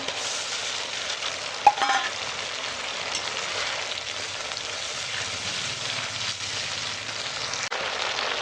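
Steady, crackling sizzle of catla fish fat frying in hot oil, continuous and close, with a brief clatter of stirring near the start.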